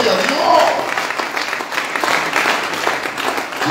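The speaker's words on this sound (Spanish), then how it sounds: "Démosle una ofrenda de palmas al Señor." A church congregation at a retreat service claps together in a dense, sustained round of applause, loud and full, with voices mixed in.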